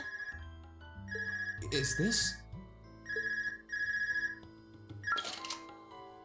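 A portable orbment device rings in Trails of Cold Steel, its bright repeating electronic trill sounding in short bursts over a low musical backdrop, while voices speak between and over the rings.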